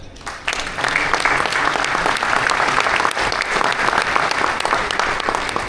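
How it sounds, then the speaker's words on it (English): Sustained applause from a large audience at the opening ceremony of the 63rd WBC Annual Convention, dense and steady at full strength for the whole span, with no break and no talk over it. "So one more applause, please."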